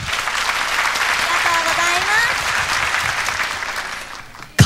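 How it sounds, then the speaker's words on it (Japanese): Audience applause at a Sailor Moon musical stage event: a dense, sustained wash of clapping from a crowd, loud and even throughout before it fades near the end. "拍手。"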